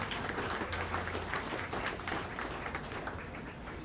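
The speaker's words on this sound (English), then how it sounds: "Let's give these young people a round of applause." An audience at the Adams County Fair beef show claps for young exhibitors and their cattle, a moderate, even patter of applause that holds steady and tapers slightly toward the end.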